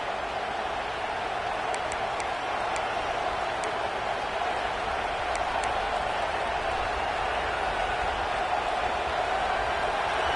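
A dense, steady roar of a large video game football stadium crowd, loud and continuous throughout, with a few faint whistles cutting through the din.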